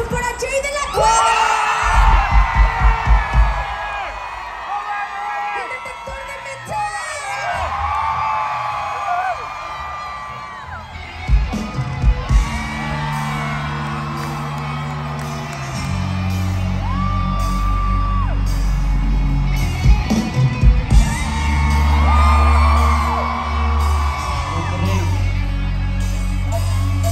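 Concert crowd at the MACHACA 2022 festival cheering, whooping and applauding, loud and sustained, with shouts rising over the roar and music with low bass swelling in beneath the crowd.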